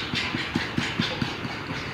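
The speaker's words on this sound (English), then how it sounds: "and we're going to start whisking." A fork whisks eggs for egg pasta dough on a curved board surface, making a quick, regular series of light clicks and scrapes, close and fairly faint, with no talk.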